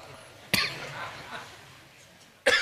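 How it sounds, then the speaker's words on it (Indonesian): Two sharp coughs from the audience at a religious talk ring out about two seconds apart over a quiet room with faint background murmur. "Aduh, mereka batuk ya."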